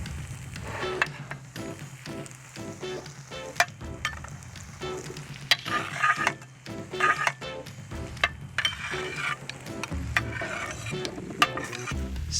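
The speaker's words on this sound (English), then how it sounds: "Stir in the vegetables." A spoon stirs grilled vegetables, chickpeas and piquillo peppers into tender paella rice in a pan. Close scraping and stirring strokes repeat over a soft, steady sizzle, with occasional light clinks of utensil against the pan.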